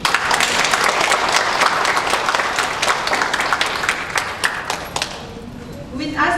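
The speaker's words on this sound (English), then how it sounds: "Let us give him a warm welcome of applause." The audience at the opening ceremony of the Migrant Writers of Singapore Festival 2021 breaks into loud, dense, continuous applause to welcome a Member of Parliament, thinning slightly toward the end.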